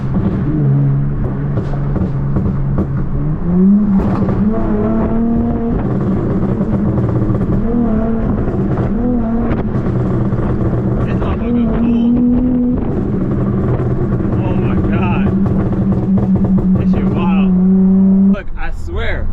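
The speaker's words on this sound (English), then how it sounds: "Get some downshifts for y'all. Little baby downshifts real quick." A car being pushed hard on a road, its engine droning and shifting pitch with short downshift blips and revs, loud and close with wind noise, under occasional talk.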